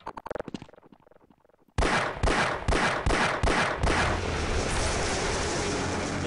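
Gunfire in the Half-Life 1 video game: a faint rattle, then a loud run of five or six sharp regular shots that trail into a roaring, booming wash.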